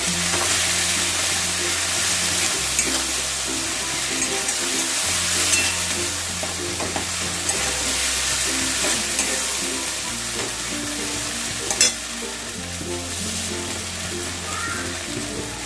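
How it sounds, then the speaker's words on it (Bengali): Green chili and ginger paste sizzle steadily as they are stirred and fried in a pan for a Bengali muri ghonto fish-head dish, with a continuous frying hiss and occasional spoon scrapes over background music. "কাঁচা লঙ্কা দিলাম এক চা চামচ দিয়ে ভালো করে মিশিয়ে নেব"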